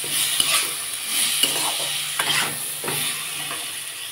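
A spice paste for a pumpkin-greens chorchori sautéed and stirred in a pan, a dense loud sizzle broken by repeated scraping spatula strokes and a couple of sharp taps against the metal, close up and without talk.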